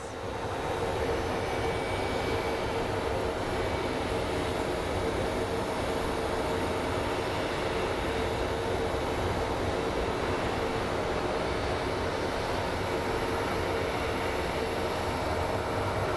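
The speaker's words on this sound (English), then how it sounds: "here comes our A321 coming from Salt Lake City. It's a Delta A321 Airbus." A steady, loud roar of a Delta Airbus A321 jet airliner passing overhead at Phoenix Sky Harbor International Airport, sustained broadband engine noise with no talking.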